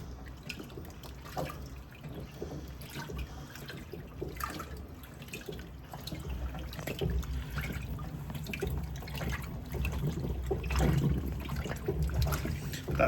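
A Fisher and Paykel CleanSmart washing machine agitates laundry through wash water, giving a steady sloshing, swishing churn with rhythmic strokes that grow slightly louder toward the end, close and alone without speech.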